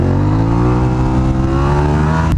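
A Suzuki SV650 V-twin motorcycle engine revving loud and close, a throaty rising drone that climbs steadily in pitch before cutting off abruptly near the end.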